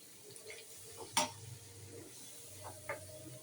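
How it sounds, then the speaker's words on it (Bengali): Spices with ginger-garlic paste, cumin and garam masala being stirred with a little water in a pan, faint quiet sizzling broken by a few scraping spoon strokes and one sharp clink. "এখন একটু পানি দিয়ে কষাবো"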